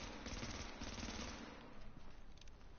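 Rapid automatic gunfire from the video game The Division, a dense sustained burst of machine-gun shots that thins toward the end, heard alone without talk.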